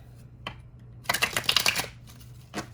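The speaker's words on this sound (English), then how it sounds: "Mystical manga tarot. Alright, I'm going to shuffle these." A quick riffle of tarot cards shuffled close up, a dense crisp flutter lasting under a second, framed by a couple of light taps.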